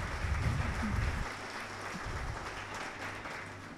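Round of applause from a church congregation, a steady wash of clapping that starts fuller and fades slightly while low murmuring hum continues beneath it.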